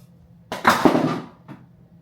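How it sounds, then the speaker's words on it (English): A short hiss of hair spray lasting under a second, then a brief second puff, close by in a quiet room. "I just spray the tip of it again so that I have like product on here"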